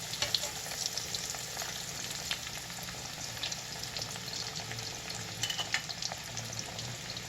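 Chicken pieces fry in hot grease for tip-yip, a continuous crackling sizzle with fine pops, steady and moderately quiet with no voices.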